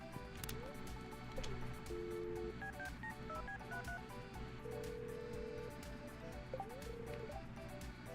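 A phone is dialed in the Stardew Valley video game, a series of short beeping tones in quick succession followed by longer held tones, quiet and set against a busy game background.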